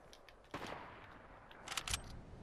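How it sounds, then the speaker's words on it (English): Video game gunfire: a faint, distant crack, then a short, louder burst of rapid shots near the end, over quiet background. "Who's shooting at me?"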